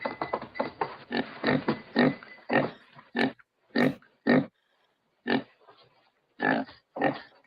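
Pigs on a farm grunt and oink in a quick series of close, loud nasal bursts, then in more spaced-out grunts separated by short pauses.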